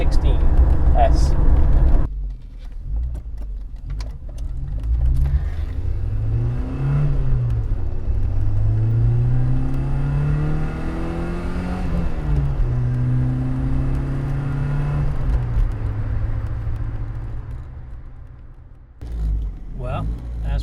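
A 1989 Saab 900 T16S drives along, its engine droning steadily with rising and falling pitch through the gears, heard close and continuous for most of the stretch, with brief quieter moments at the start and end.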